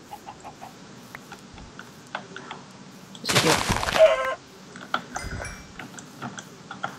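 Minecraft chickens clucking in short, scattered bursts amid game sounds and background noise, with a louder broadband clatter midway and brief speech.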